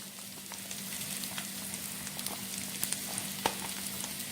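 Onion, ginger and vegetables such as cauliflower, carrot, capsicum and beans sauté in a pan for vegetable dum biryani, giving a soft, steady sizzle with occasional light crackles and stirring taps.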